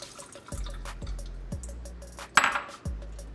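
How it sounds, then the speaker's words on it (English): Rinsed rice being strained in a kitchen, with water dripping and pattering in a regular series of close drops, each followed by a low resonant ring, plus a sharper splash near the end. "So to make sure the rice is all clean, I'm just going to"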